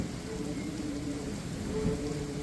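Heavy rain falls at New Aryankavu railway station on the Kollam–Sengottai line, a steady, dense hiss with no distinct drops or talk.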